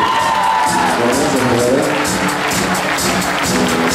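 A large crowd at the Rose Queen pageant in Karlovo, Bulgaria, 2014, claps and cheers loudly and continuously, with whoops and shouts rising over dense applause.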